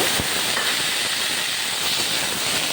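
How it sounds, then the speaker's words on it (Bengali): Chopped flat beans go into hot oil with minced ginger and green chili, and a loud, steady, close hiss fills the whole moment without a break. "এখানে কেটে রাখা শিমটা দিয়ে দেব"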